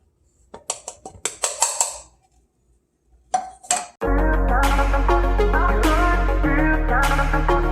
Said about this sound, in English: We're going to mix all the dry ingredients first.